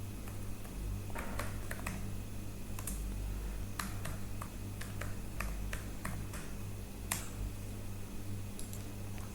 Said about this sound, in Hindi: टाइप करना है यहाँ पर